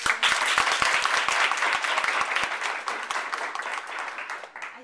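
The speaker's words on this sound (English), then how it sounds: "Judge Cosby also deserves another round of applause." Audience applause at a women's summit, a dense, sustained round of clapping from a crowd that stays loud throughout and tapers slightly near the end.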